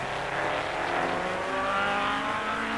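Vintage Sunbeam Tiger race cars running in period motorsport racing, a steady loud engine drone with harmonic whine sustained throughout, no talking.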